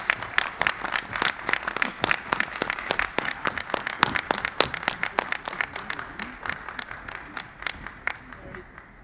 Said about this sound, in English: Let's give a round of applause for Hannah five-time Gabriels.